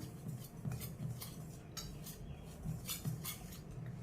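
A spoon clinks and scrapes against a bowl while gram flour batter with spices is mixed, quiet rhythmic strokes repeating close by at a steady pace with soft metallic taps.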